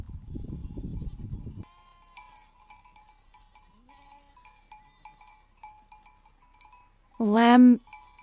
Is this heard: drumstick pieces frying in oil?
no